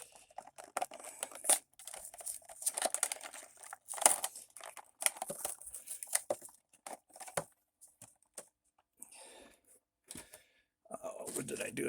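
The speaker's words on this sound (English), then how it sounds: "So let's go ahead and pop him off the card." A G.I. Joe action figure is pried off its plastic blister card, giving intermittent crinkling, snapping and tearing of plastic and cardboard. A person talks between and over the handling noises.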